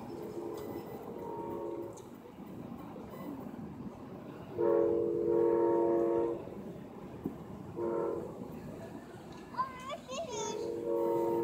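An Amtrak P092 passenger train passes through Plant City, sounding its horn in several sustained blasts over steady rumbling track noise, with someone speaking nearby at moments.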